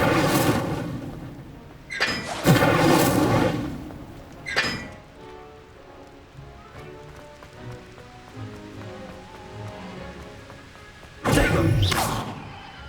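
Incendio fire spell casts in Hogwarts Legacy, several sharp whooshing bursts of flame at irregular intervals, loud and close, with quieter crackling and ambience between them.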